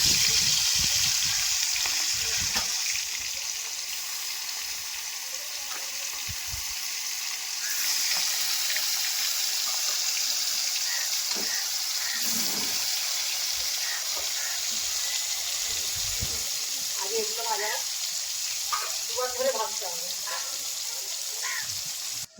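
Marinated catla fish pieces fry in oil in a pan with a loud, continuous hissing sizzle that turns into busier bubbling crackles toward the end.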